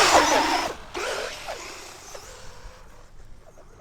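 A Traxxas Slash 4x4 RC truck in an ultimate basher build launches across the Silver Lake sand dunes, giving a loud whirring motor burst that fades into a rougher, quieter running noise.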